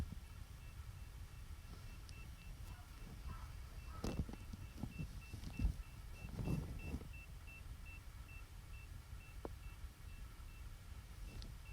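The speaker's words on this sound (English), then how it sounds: "now I can take my telescope, which is beeping again" A telescope mount gives a steady string of faint, evenly spaced electronic beeps through the whole stretch, with handling clicks and thumps and a low outdoor rumble underneath.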